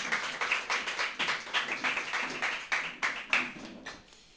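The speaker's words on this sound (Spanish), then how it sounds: "démosle una fuerte ofrenda de palmas al Señor." Church congregation clapping hands together in a steady, rhythmic beat, moderately loud and roomy, continuing for a few seconds before tapering off, with no talk over it.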